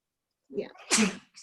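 A single sharp sneeze bursts out, close and fairly loud, after a short vocal intake, with a brief voice following.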